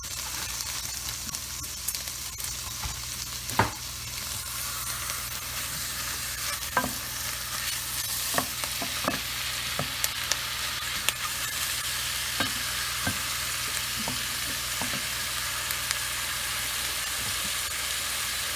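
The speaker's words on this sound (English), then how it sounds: "the next thing I'm going to do is add in my chicken" Two chicken thighs sizzle and fry with onions and carrots in a cooking pot, a steady bright hiss throughout with occasional sharp pops and clicks of stirring, close and alone.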